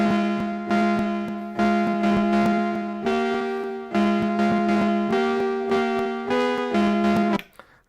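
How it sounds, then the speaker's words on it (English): A synthesizer sample recorded from a Roland System-1, sliced and sequenced into a repeating pattern of bright, bell-like tonal hits that shift pitch every couple of bars, steady and upfront before cutting off abruptly at the end. "this sound is very similar to what was coming out of the System 1,"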